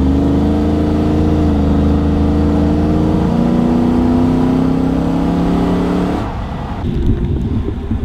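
Hemi 5.7 V8 in a Jeep Wrangler revs loudly nearby, pitch climbing steadily over several seconds before dropping back to a rough idle.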